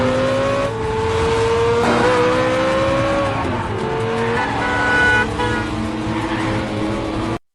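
A car engine revs hard through a movie car chase, rising and falling in pitch with gear changes over several seconds, joined by tire squeal and a brief horn toot, loud and continuous.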